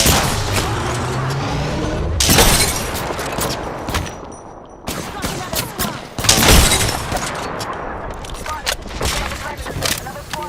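Gunfire in a ranked Apex Legends match: loud, close bursts of rapid automatic shots in several volleys with short gaps between them, sharp cracks over a busy background, with a voice speaking at points.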